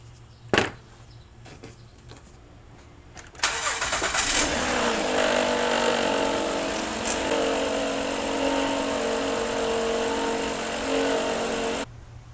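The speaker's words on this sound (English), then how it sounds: "it sounds like rubbing with the timing cover" A car engine starting and settling into a steady, loud idle rumble with a possible rubbing noise near the timing cover, after which the engine runs continuously and then cuts off abruptly near the end.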